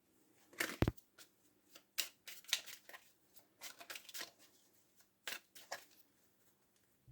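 Tarot cards being cut and handled during a card reading, a series of soft papery flicks and slaps in irregular bursts, close and quiet, with a sharp snap near the start.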